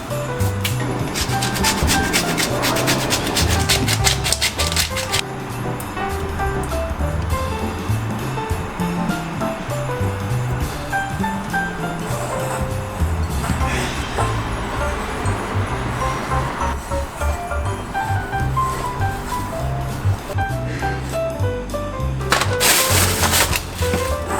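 Walnuts being ground by hand for Hungarian Christmas cookies, a steady rubbing, rasping grind that continues for the whole stretch, close and fairly loud, with a brief harsher burst near the end.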